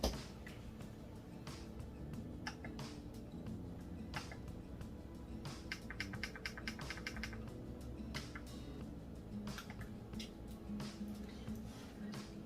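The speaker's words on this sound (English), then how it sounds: "I can hear the clicking of the buds as I'm, you know, trying to play and pause" Rapid small plastic clicks, close and crisp, come in scattered bursts over a steady low background hum.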